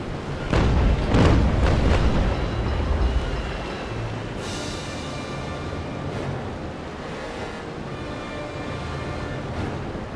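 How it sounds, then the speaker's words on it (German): Cannon fire from a 64-gun fort in the naval battle game Naval Action: several heavy booms near the start, then a long rumbling roar that fades into a steady low wash. "So ein Fort hat irgendwie 64 Kanonen und kommen auch alle wohl zum Einsatz."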